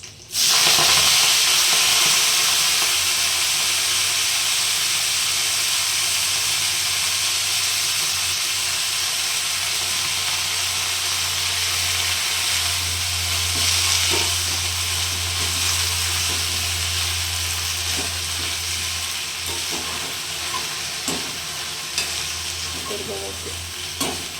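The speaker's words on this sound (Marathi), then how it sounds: "मला तेल टाकलेलं होतं मी लसूण वगैरे सगळं जाऊन झालेलं आहे आपण आता मेथी टाकून घेऊयात" Fenugreek leaves drop into hot oil already holding fried garlic, giving a loud, steady sizzle with occasional stirring scrapes that continues without a break.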